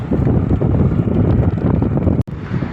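Loud, steady wind roar buffeting the microphone of a cyclist pedalling into a headwind along a wide roadside shoulder in Peru, constant throughout with a brief dropout near the end.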